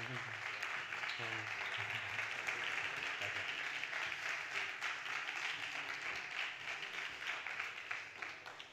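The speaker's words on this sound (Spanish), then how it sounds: "un aplauso para ellos" An audience applauds the chefs at a cooking demonstration in a restaurant, a sustained wash of clapping with voices murmuring and speaking beneath it.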